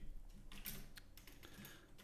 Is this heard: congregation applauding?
no